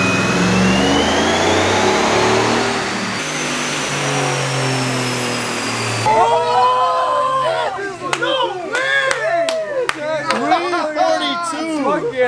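A 2024 Ford Mustang's engine revving on a dyno, climbing in repeated loud pulls near the mic, with voices and a crowd around it.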